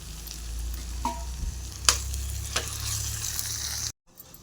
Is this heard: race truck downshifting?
no